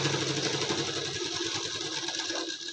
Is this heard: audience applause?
no